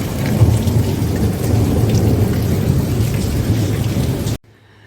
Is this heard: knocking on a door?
no